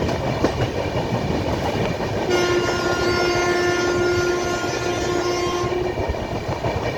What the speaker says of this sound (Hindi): अच्छी खासी स्पीड से स्किप हो रहा है ये स्टेशन, देखो।